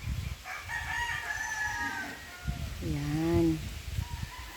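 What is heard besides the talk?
chickens in farm coop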